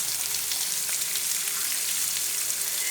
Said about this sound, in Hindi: इसे तकरीबन 4 से 5 मिनट के लिए हमने हाफ आंच पे फ्राई करना है